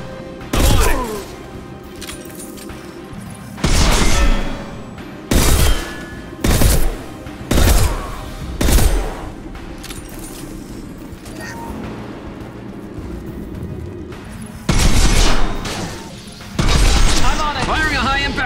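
Bursts of gunfire in Mass Effect Legendary Edition, including a high-impact shot, come as about eight loud, separate blasts and short volleys spread irregularly across the stretch, with quieter game ambience and voices between them.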